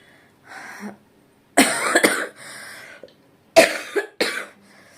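A person coughs in several harsh bursts, two strong pairs of coughs with brief pauses between, close to the listener.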